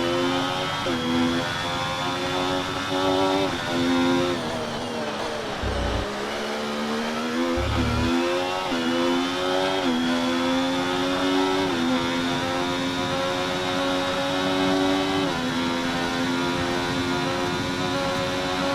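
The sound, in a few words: racing car engine in F1 24 video game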